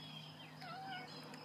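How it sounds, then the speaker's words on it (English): A cat gives a couple of faint, short meows partway through, rising and falling in pitch under a steady indoor hum. "here comes my cat"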